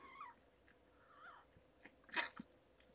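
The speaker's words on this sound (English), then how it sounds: "I hear kitten squeaks." Newborn kittens squeaking during birth from a rescue cat, faint high-pitched squeaks and mews up close, followed by a brief louder sneeze-like burst and soft rustling.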